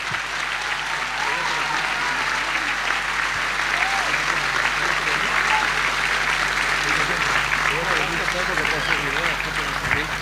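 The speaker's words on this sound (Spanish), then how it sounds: "Un fuerte aplauso para estos hermanos." A church audience gives a long, steady round of applause, many hands clapping in a continuous dense wash that holds without pause, with voices murmuring faintly beneath.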